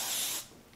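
A short burst of hairspray sprayed onto curled hair while styling beachy spiral waves. The hiss is close and loud for about half a second, then cuts off into quiet.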